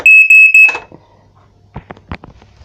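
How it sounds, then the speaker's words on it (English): A home smoke alarm under test gives three loud, piercing beeps in quick succession, followed by faint clicks and handling sounds close by. "smoke alarm test"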